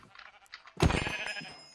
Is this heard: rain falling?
no